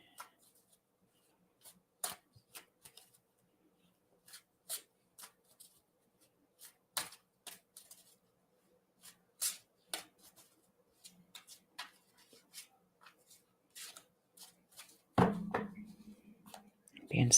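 A deck of cards is shuffled and handled in irregular bursts of soft riffles and taps, quiet and close, with a louder rustle near the end.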